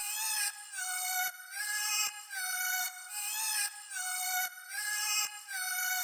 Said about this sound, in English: these, what I'm calling them, the metallic slides